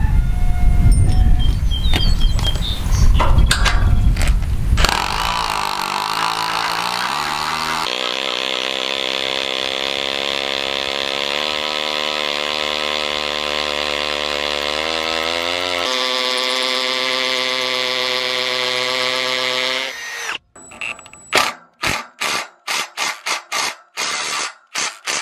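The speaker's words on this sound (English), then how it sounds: "I have the concrete bit on right here, and I'm going to chew into this" A drill fitted with a concrete bit grinds into concrete, a loud sustained whining roar that changes pitch as it bites deeper, then stops and gives way to a series of sharp knocks and clatters.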